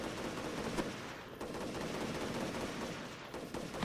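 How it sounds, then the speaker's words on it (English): Gunfire in Vampire Rain, rapid automatic bursts and scattered shots forming a dense, continuous barrage with occasional sharper cracks, loud and close with no speech. "Just run straight to gunfire."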